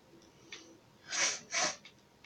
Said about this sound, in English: I am sniffing. My nose is very stuffy.